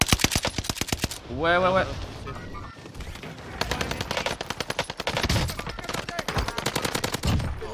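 Dense automatic gunfire from an enemy squad in Warzone, loud rapid bursts of machine-gun shots that keep repeating, with a player talking briefly between volleys.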